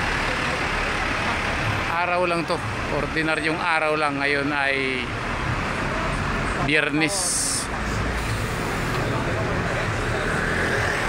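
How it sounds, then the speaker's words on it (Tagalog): Heavy evening traffic on Nathan Road in Hong Kong, with buses and cars stuck at a standstill; a steady roar of idling engines fills the street while someone speaks over it and a brief hiss cuts through. "Ayan yung traffic sa kabila, o wala nang galawan yung bus."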